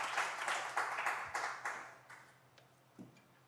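A church congregation claps during a Wednesday worship service, with a sequence of rhythmic group handclaps that gradually thin out and fade, ending in a few scattered claps.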